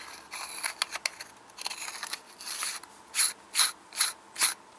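Battery tube of a Brass Monkee 26650 mod being screwed down by hand, with a run of soft ratcheting thread clicks that builds into four distinct, evenly spaced louder turns at close range.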